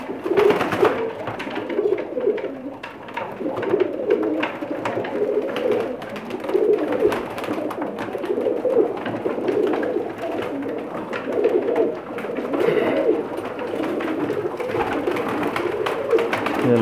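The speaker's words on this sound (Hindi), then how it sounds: "सब जोड़े वाले कबूतर हैं" Pairs of breeder pigeons in a loft coo repeatedly in soft, throaty rolling calls. Several birds overlap in a continuous rhythm at close range, with no voices.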